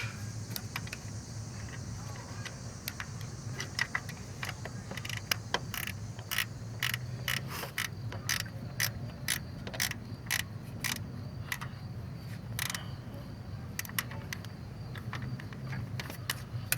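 A ratchet wrench works on a 2012 Nissan Maxima engine near the rear camshaft sensor, giving bursts of sharp, close clicks at an uneven pace over a low, steady hum.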